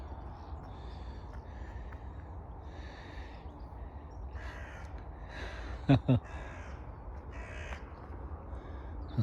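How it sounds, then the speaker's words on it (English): A crow caws several times outdoors near a steaming pile of wood chip, its harsh calls coming in short bursts over steady background noise, moderately close and fairly loud. "Bloody crow there though."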